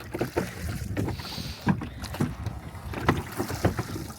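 Oars pull a small rowing boat across a lake in Slovenia, with a steady series of close, rhythmic splashing strokes over light wind noise and no talking.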